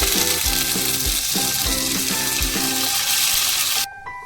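Slit green chillies and garlic fry in a pan, crackling in a loud, steady sizzle with a repeating low thumping rhythm underneath, and the hiss drops off abruptly near the end.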